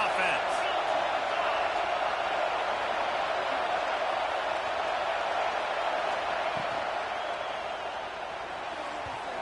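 Steady, loud stadium crowd roar fills an American football game in the Madden video game, a continuous wash of cheering that tapers slightly toward the end.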